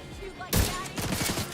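Close, loud bursts of gunfire from a scoped weapon in The Division 2, Battle for Brooklyn, with a sharp blast followed by a rapid run of repeated shots.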